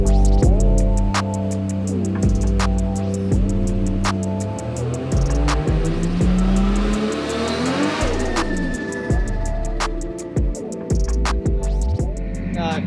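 A Nissan Skyline GT-R R33 with a slipping clutch revs hard on a full load pull, its engine tone sweeping upward then dropping and surging again, loud and close with sharp ticking transients throughout.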